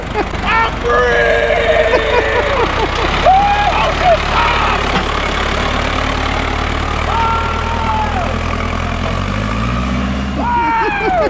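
A heavy tractor engine runs loud and steady close by after pulling out of deep mud, its rumble shifting slightly in pitch, with voices speaking over it at times.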